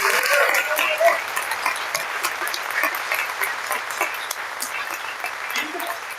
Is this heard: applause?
yes